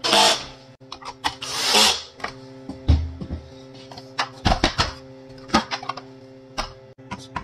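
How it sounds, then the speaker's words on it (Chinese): Screws being fastened into a photocopier circuit board with a small tool, heard as scattered ticks, clicks and brief whirring bursts at close range, with short pauses between them. "卡到位了之后，我们再上螺丝。"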